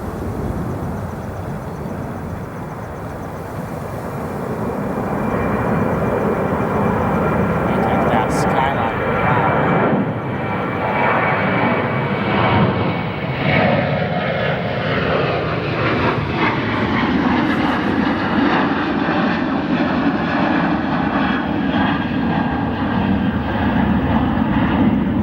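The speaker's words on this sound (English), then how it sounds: "Have touchdown, keeping that nose up for a long time, using some aerodynamic braking on the A340." An Airbus A340 touches down at O'Hare International Airport at night and holds its nose up for aerodynamic braking. The loud, broad engine and air roar rises and then stays steady, heard from a distance with talking over it.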